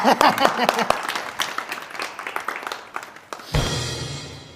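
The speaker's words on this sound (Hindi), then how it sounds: "तालियां।" A gathered crowd claps during a comedy sketch about an election issue, a busy burst of applause lasting about three and a half seconds before it cuts off abruptly into a different, steadier background sound.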